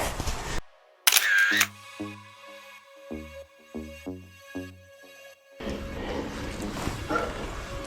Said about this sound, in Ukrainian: Зараз я їй зроблю швиденько фото